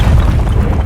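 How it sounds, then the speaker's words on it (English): A nuclear blast destroys an outpost in a post-apocalyptic video game: a loud, deep, rumbling boom that roars heavily in the low end and fills the whole moment without any voices. "I think the outpost just got nuked"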